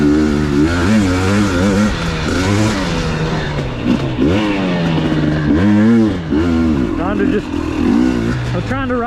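A 2021 KTM 250 XC dirt bike rides a trail at Crow Canyon, its engine revving up and dropping repeatedly in loud, close bursts as the rider works through turns, with a voice talking over the engine.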